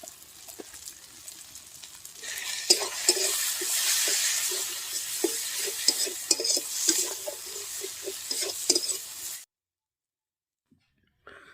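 Turmeric and chili sizzle in hot oil with ginger for a winter vegetable dal, stirred with a utensil in brisk, uneven scrapes. The frying is close and moderately loud, then cuts to near silence near the end.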